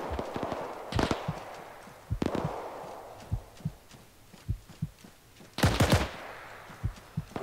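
Enemy gunfire in an Arma multiplayer trench battle crackles at a distance: scattered single shots and short bursts, with louder clustered volleys near the start, middle and end, and no voices.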